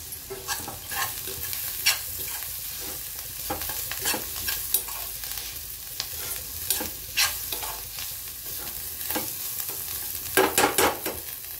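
Onion masala with mashed eggplant and coriander being sautéed for baingan bharta, a constant sizzle punctuated by regular sharp scrapes and clatters of a spoon stirring in the pan.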